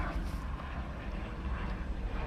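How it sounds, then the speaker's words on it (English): An airplane passes overhead at a boatyard, its engine making a distant, steady, low rumble that lingers with no talking. "Stupid plane."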